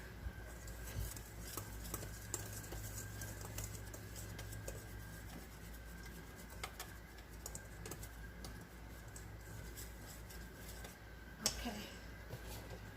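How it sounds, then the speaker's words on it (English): Batter for a pizza crust is whisked in a bowl, a steady stirring scrape repeating beside the speaker, with faint room hum, a few sharp clinks, and talk around it. "And a whisk. Whisk, whisk,"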